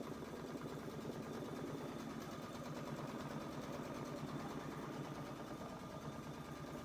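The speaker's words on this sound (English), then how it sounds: "hold it out of the way, and stitch" A Solaris 2 embroidery machine stitching a border in a magnetic frame, a steady, even, rapid mechanical chatter and hum running continuously at constant loudness.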